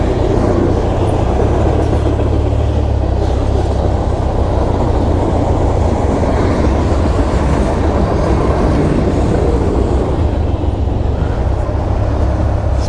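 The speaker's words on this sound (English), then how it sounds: "Gotta love trains." Train rumbling past at close range, a loud, continuous roar with steady rattling that sounds like ground-shaking, heard on a motorcycle ride home, with no talking over it.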